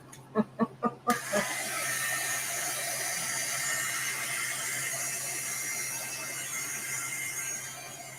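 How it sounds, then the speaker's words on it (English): A few quick mechanical clicks, then a heat gun starts and blows with a steady, loud whooshing hum until the end, drying watercolor paint. "I'm gonna dry this. Dryer. Drying. Heat gun."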